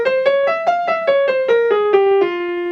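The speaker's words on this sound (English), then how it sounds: "And one of the common minor scales is a harmonic minor." A harmonic minor scale played note by note on a sustained melodic instrument, about ten evenly spaced notes stepping down in pitch, close and clear with no talking.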